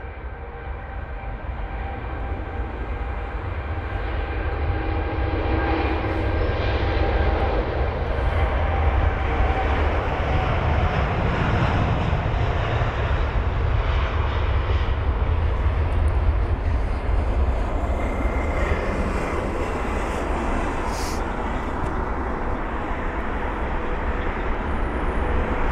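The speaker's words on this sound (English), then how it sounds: "That's going to be heading to Baltimore, flight number BA229 for the 787-8 Dreamliner" Airliner jet engines at London Heathrow airport, heard as a loud, continuous low roar and rumble that swells and holds for the whole stretch, with no talk over it.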